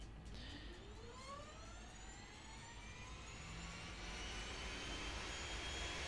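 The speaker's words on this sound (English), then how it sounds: "Let's start our plane." In Microsoft Flight Simulator X, an aircraft engine starts with a whine that climbs steadily in pitch as it spools up over a low rumble, faint and with no talking.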